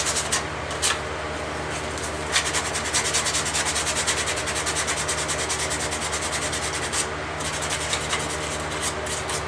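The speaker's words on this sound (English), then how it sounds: "It might be a little off, and then you just sand, sand, sand," Hand sanding the edges of a Kydex pistol holster for a Beretta PX4 Storm, a close, steady back-and-forth rubbing rasp with a few brighter strokes and no talk.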